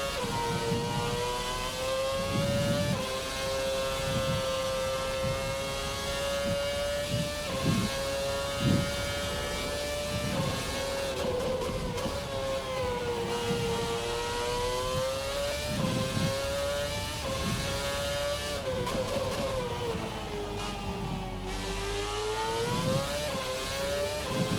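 Naturally aspirated V8 engine of a 2013 Formula car in the Race Sim Studio sim, screaming steadily at high revs with rising and falling pitch through upshifts and downshifts, loud and continuous with no talk.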